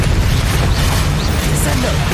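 Bombarda and Confringo spell explosions in Hogwarts Legacy: dense, loud booms and bursts run back to back with a heavy low rumble, while a voice speaks over the combat.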